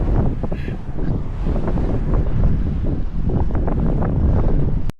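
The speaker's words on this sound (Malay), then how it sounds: "Angin kuat gila." Strong wind on the Busan coast buffets the microphone in a loud, continuous roaring rumble that holds steady throughout and cuts off abruptly at the end.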